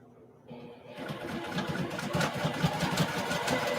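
A sewing machine starts up and runs steadily at close range, a fast mechanical whir that builds over the first second and then holds.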